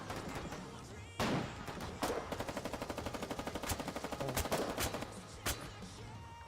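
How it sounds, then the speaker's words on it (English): Gunfire in the war game Foxhole: a couple of heavy single shots, then a rapid machine-gun burst of evenly spaced cracks for about two seconds, followed by further scattered loud reports, fairly close. "They're shooting the opposite direction."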